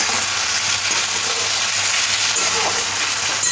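Tomato and onion with salt frying in a pan, a steady close sizzle and hiss throughout with faint stirring, no talking.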